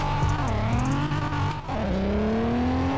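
A 2021 Nissan 400Z engine in the Roblox racing game revs and climbs through the gears, a loud, steady tonal drone that rises, dips briefly at a shift near the middle, then pulls up again.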